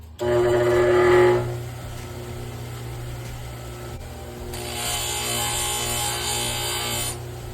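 Grinding down extended studs for a Challenger: a loud, harsh mechanical grind in a brief burst, then a quieter stretch before a second, steadier rasping grind carries on to the end.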